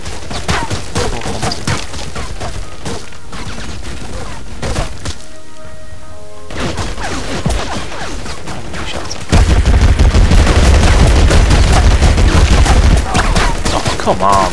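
Rapid machine gun bursts and scattered gunshots ring out in Battlefield Heroes. They are loud and repeated, stop briefly in the middle, then come back heavier, with a voice talking over them at times.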